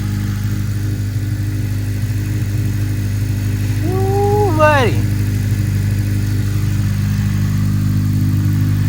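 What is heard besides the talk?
car engine running with loud exhaust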